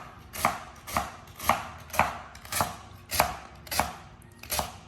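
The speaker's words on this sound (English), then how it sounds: "You want to cut the celery kind of thin." A knife slices celery thin on a cutting board for jambalaya pasta, eight crisp, evenly spaced chops at a steady rhythm, close and clear with no talking.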